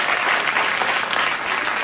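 A late-night talk show studio audience claps enthusiastically, a dense, loud, continuous burst of applause throughout.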